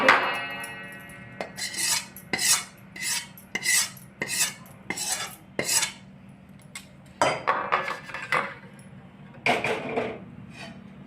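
Metal spoon scraping and tapping a pan while dry date powder roasts in ghee, in rhythmic bursts of clinking strokes with short pauses over a low steady background hum.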